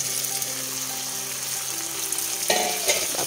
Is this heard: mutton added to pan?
yes